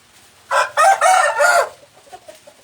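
A rooster crows once, loud and close, in a Thai Isan village. The crow is a run of strong bursts with no talk over it, followed by faint farmyard sounds.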